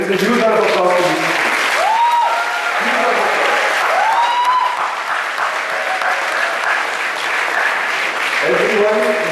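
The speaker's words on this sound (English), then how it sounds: "A huge round of applause to you." Audience applause fills a scholarship and felicitation ceremony hall, sustained and steady throughout, with a speaker's voice rising over it at points.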